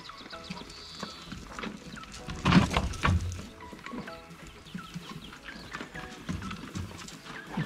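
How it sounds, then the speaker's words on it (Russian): Horses walk past outdoors, hooves clip-clopping in an irregular, moderately loud rhythm over a busy background with a few heavier thumps. "Там лошади ездят."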